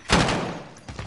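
A quick gunshot from a first-person shooter match, one loud close crack followed by a rumbling tail and a smaller second report, no talk.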